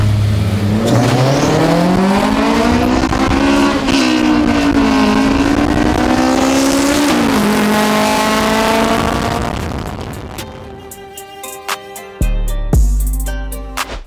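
Engine-swapped Honda Civic accelerating hard on a 200-metre drag run, loud rising engine note climbing through gears for about ten seconds, then fading with the car pulling away, leaving faint clicks and a low rumble.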